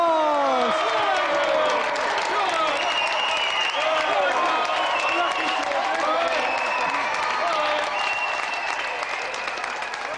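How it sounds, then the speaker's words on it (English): A television game show studio audience applauds loudly and continuously, with cheering and whoops rising over the steady clapping throughout. "a big round of applause for our gallant competitor, George Xenophontos!"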